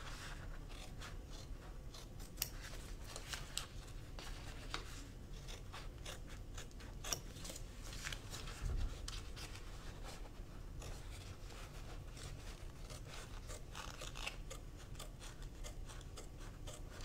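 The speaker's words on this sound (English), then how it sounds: "we're going to take that duckbill scissors and we're going to go ahead and trim all the way around" Duckbill scissors trim around embroidery fabric, with a continuous run of soft, close snips and rasping cuts over a faint background hiss.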